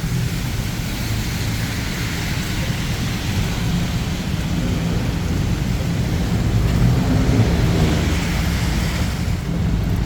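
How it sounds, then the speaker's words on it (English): Heavy rain pours down during extreme flooding in Bangkok's Sukhumvit district, a loud, constant roaring wash with a deep rumbling undertone, steady and close with no voices. "when it rains, it just comes out with so much power and so much water"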